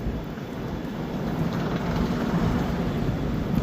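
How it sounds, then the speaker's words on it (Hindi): Steady rain pours at a railway station near Udaipur, a dense, even hiss that swells slightly louder as it goes, with no voices. "बारिश का मौसम है"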